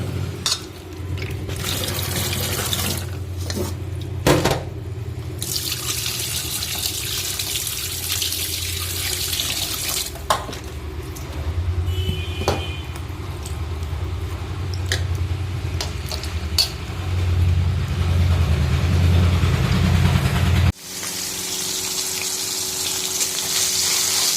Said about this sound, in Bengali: পাবদা মাছগুলো ভালো করে ধোয়া হয়ে গেছে